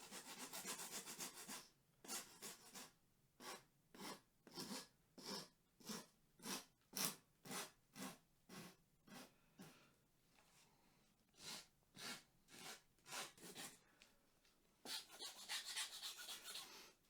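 A hand rasp smooths the cork overlay on a match rod screw fitting with steady back-and-forth strokes, about twenty rhythmic scraping passes, close and clear, with a brief pause midway.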